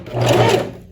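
Close and loud, a sewing machine runs a straight seam on a lined tailored vest in one short continuous whir that swells and fades.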